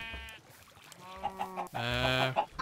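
Minecraft chickens cluck and squawk in a short series of calls, a few quick clucks followed by a louder drawn-out cackle, fairly close.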